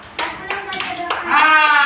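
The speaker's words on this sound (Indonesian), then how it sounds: "Tepuk tangan Bu Habib." Children in a classroom clapping hands, four sharp, evenly spaced claps in unison close by, followed by a voice.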